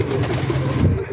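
Pigeons coo in a low, soft, throaty murmur close by, a short burst of overlapping calls from a flock of fancy birds.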